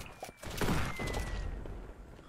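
Gunshots in the farming shooter game Shotgun Farmers, a few sharp blasts in quick succession followed by a lingering rumbling tail, moderately loud.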